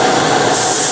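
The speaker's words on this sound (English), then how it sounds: "I'm spraying at 35 psi, and I've got the needle on the airbrush about halfway." A loud, steady hiss of a Paasche H airbrush spraying paint at 35 psi, continuous and close, with no pauses or voices.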